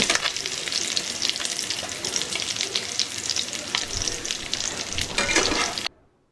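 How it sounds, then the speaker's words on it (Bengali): Steady, crackling sizzle of khoira fish frying in hot oil, loud and close, continuing without pause until it stops abruptly near the end. "আবারও আমি বাকি মাছগুলো একই রকম করে ভেজে নেব।"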